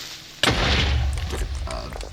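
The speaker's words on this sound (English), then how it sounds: "all those blocks did block the explosion" A Minecraft explosion, most likely a creeper blast, hits as a sudden loud boom and then fades into a long rumbling decay, with a voice speaking over it.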